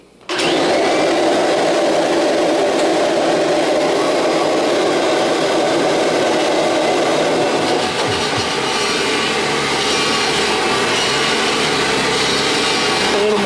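The drive mechanism of a Kirby G5 vacuum cleaner runs steadily, a loud, close motor whir with a grinding, rattling mechanical texture that continues without a break and shifts slightly in tone partway through.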